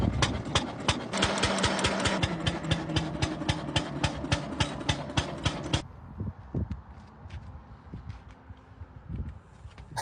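Antique Benz Motorwagen engine running, a loud rapid chugging beat from the old single engine close by, which stops partway through, leaving quieter rattles and knocks.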